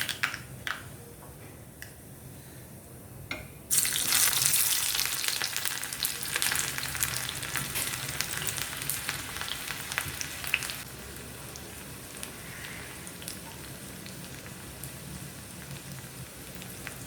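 Chopped shallots frying in oil in a pan, a dense crackling sizzle that jumps louder a few seconds in and then keeps going steadily, close by, with no talking.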